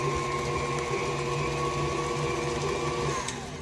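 Electric stand mixer whirring steadily as it blends cake batter for a skillet pineapple upside-down cake, a constant motor hum with a high whine, close and uninterrupted.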